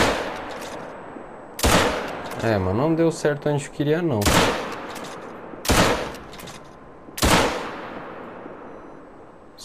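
A hunting rifle in theHunter: Call of the Wild fires at deer, several loud, sharp shots spaced a few seconds apart, each with a decaying echo. Someone talks between the shots.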